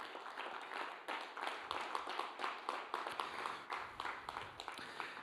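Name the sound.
congregation clapping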